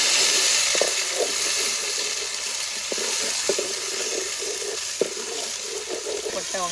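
Ginger garlic paste sizzles and fries loudly in a pan during village-style chicken cooking, with steady crackling broken by clanking stirring strokes and faint voices in the background.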